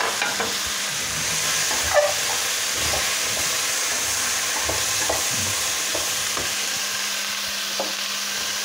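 Ñora peppers, crushed garlic and bay leaf fry gently in oil in a pan, a steady soft sizzle and hiss running throughout with a few light clinks of stirring.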